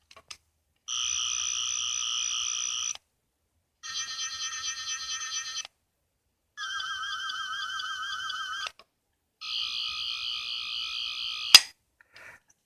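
Four separate electronic warbling buzzes from a Doctor Who sonic screwdriver toy, each lasting about two seconds with short silent gaps, then a sharp click near the end, with no voices.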